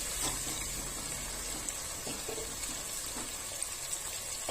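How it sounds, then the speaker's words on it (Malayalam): Four cups of water pour into a cooking pan for upma in a steady, faint stream, a soft continuous rush with no talking. "ഇനി ഇതിലേക്ക് ഞാനൊരു 4 കപ്പ് വെള്ളം ഒഴിച്ചു കൊടുക്കുന്നുണ്ട്"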